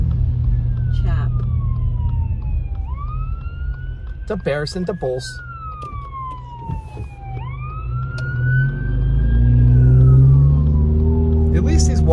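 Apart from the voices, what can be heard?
ambulance siren passing on the road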